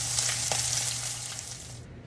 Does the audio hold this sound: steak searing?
yes